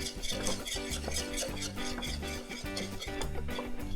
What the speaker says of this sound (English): let's blend this well, and we'll start cooking it over low heat.